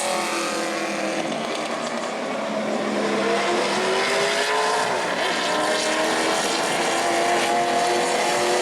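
A sportsman race car engine roars steadily at high revs during qualifying at New Smyrna, its pitch shifting as it speeds past, loud and continuous with no talking.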